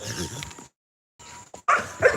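An American bully dog barks in a few short, close bursts separated by a silent gap, with some louder sharp barks near the end.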